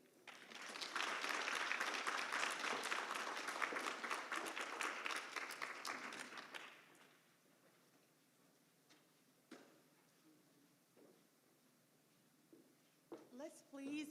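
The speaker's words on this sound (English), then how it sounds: "Let's please give Director Love another round of applause." Audience applause at the Arkansas Minority Health Summit, a full round of clapping from a crowd that lasts about six seconds and then fades into quiet room noise with scattered small sounds.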